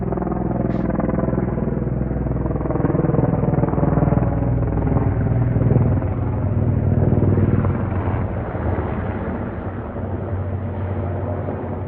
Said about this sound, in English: Got a C-130 refueling. Probably a Blackhawk, maybe a Pavehawk though.